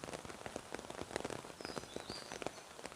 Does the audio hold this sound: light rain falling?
yes